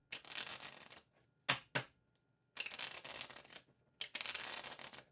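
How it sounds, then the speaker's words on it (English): A deck of cards shuffled several times: riffling bursts, then two quick snaps, then more riffles, close and fairly quiet, with no talking. "We are going to shuffle these cards."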